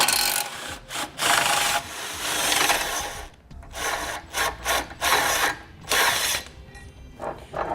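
A socket wrench works two tow hook bolts loose on a 2018 Jeep Grand Cherokee, with bursts of close metallic ratcheting and grinding broken by short pauses.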